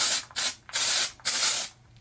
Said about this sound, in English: It's kind of a cross between a hairspray and a texture spray.